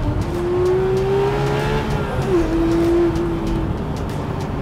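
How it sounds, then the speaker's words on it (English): A Porsche 911 GT3 Speedster engine revs hard and steadily at close range, its pitch rising, dipping briefly and climbing again under a constant roar. "It is one of the best sounding engines on the planet."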